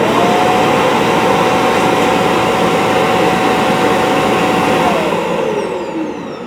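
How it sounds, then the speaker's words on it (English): An ECOVACS DEEBOT X2 Omni robot vacuum's docking station empties its dust bin with a loud, steady whooshing roar of suction that holds constant and then begins to fade at the end. "Start charging. To empty the dust."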